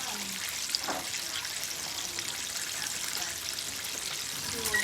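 Chicken thighs frying in hot oil in a home kitchen, a steady soft crackling sizzle that holds at an even level throughout with a few faint pops, no voices.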